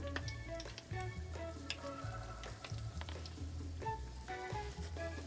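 Jamaican festival dumplings frying in hot oil on the stove, a steady close crackle and sizzle with scattered sharp pops and a low hum underneath, no talking.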